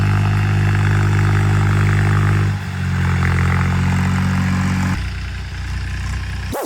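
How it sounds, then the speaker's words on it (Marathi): A tractor engine running steadily while sowing seed in a farm field, a loud continuous rumbling drone that shifts pitch and load a couple of times. "इकडे बघा ट्रॅक्टर आहे"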